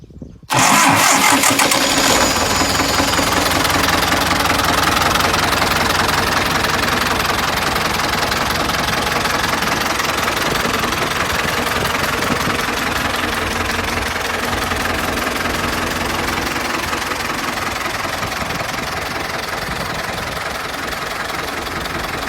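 A Ford 6600 diesel farm tractor cranks briefly and fires up, then settles into a loud, steady, knocking diesel idle that runs on for about twenty seconds close to the listener.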